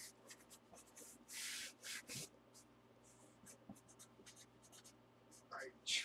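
Pen writing on a card during a football trading card box break, with soft intermittent scratching strokes close by, mixed with quiet rustling and handling noise and brief talk.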